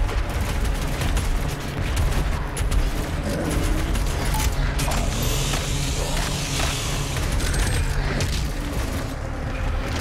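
Enemy cannons in DOOM Eternal's hallway of hate fire all together, a loud, dense barrage of booming blasts and gunfire that stays constant and close throughout.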